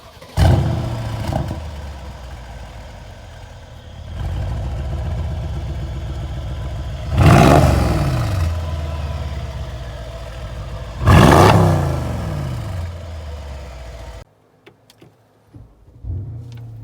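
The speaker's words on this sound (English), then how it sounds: "Your quad AMG exhaust, when it starts up, it gives that rumble of the AMG sound." A 2017 Mercedes-AMG GLE63 with quad exhaust, its engine rumbling loud and close, rising in two sharp revs between steady idle stretches before cutting off into near silence.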